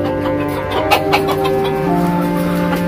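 Chickens clucking at a poultry farm, a steady layered chorus of hens with scattered louder clucks over a constant humming background.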